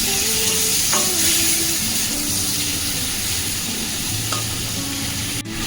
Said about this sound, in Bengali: চিংড়ি মাছটা দিয়ে একটু ভাজা ভাজা করে নিই